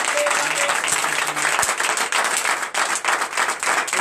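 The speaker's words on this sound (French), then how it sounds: "Donnez de vives acclamations." A church congregation at a Sunday service in Comé, Benin applauds and cheers loudly, dense continuous clapping with crowd voices throughout.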